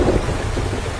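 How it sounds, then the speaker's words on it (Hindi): Heavy rain pours down in a jungle while deep thunder rumbles loudly through the whole short stretch, with no voices. "रात भर तेज बारिश चलती रही।"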